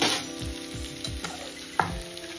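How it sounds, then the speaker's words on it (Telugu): Sliced onions fry with bitter gourd in a pan, giving a close, continuous sizzle with a few quick stirring scrapes and one sharper clatter near the end. "ఉల్లిపాయలు ఎక్కువ వేగాల్సిన అవసరం లేదండి, కాకరకాయలతో పాటు వేగుతాయి."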